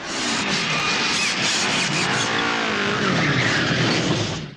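A motorbike stunt from the 1983 film Never Say Never Again, with a loud, continuous engine roar rising and falling in pitch and tire squeal.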